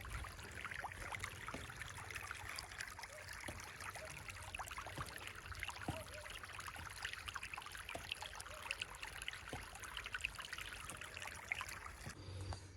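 Irrigation water flows across a village field at night with a faint, steady trickling rush and soft splashes continuing evenly throughout, heard from nearby and without talk.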